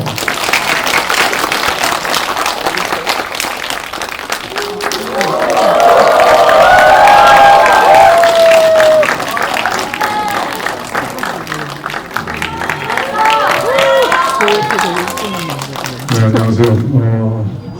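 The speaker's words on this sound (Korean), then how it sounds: "박수 부탁드릴게요." A cinema audience at a Korean film's opening-weekend stage greeting applauds and cheers as director Kim Jee-woon and the cast of Cobweb come out, loud sustained clapping swelling midway, with voices and shouts mixed in and speech rising near the end.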